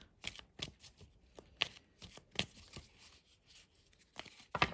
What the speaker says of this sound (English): I do the overhand shuffle, I do a riffle shuffle if I can